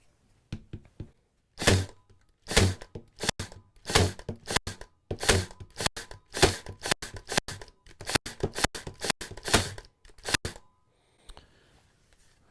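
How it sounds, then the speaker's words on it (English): A Metabo 23 gauge pin nailer driving 1 3/8 inch nails fires in a rapid series of sharp, close pneumatic snaps and thunks, many shots in quick succession, followed by quiet. "So let's shoot the Metabo, okay?"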